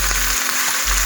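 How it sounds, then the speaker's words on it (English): Oxtail fries in a pot, a loud, close, continuous sizzle with a brief stirring scrape. "the oxtail now under in the pot. You know, frying it up"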